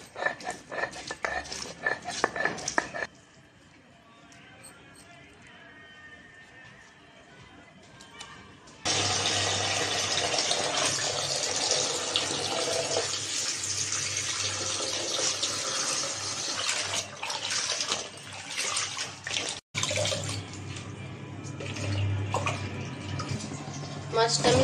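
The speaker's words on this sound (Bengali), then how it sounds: "মাছটা আমি লবণ মেখে রেখেছিলাম, এখন ধুয়ে নিব।" Tap water pours steadily as salted puti fish are washed, a broad close rushing flow that stops and starts, with speech and handling noises before it.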